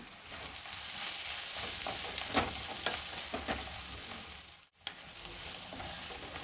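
Tempering oil sizzles steadily in a pan at close range while a spoon stirs through it with occasional scrapes; one brief dropout interrupts the hiss.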